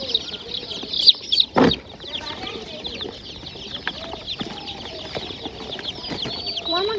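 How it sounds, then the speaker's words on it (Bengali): Chickens cluck and a rooster calls in a village yard alongside two-day-old ducklings peeping, with bright chirps scattered throughout, a loud burst of flapping or calling near the start, and faint voices in the background. "এই দেখ কত সুন্দর হাঁসের বাচ্চা রে।"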